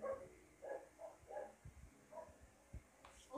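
A dog barking indoors during a make-up session, several short yips and barks in an irregular series, faint and somewhat distant, mixed with soft thumps and handling noises.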